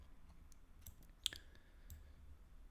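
A single sharp computer mouse click, faint and close, in an otherwise quiet room.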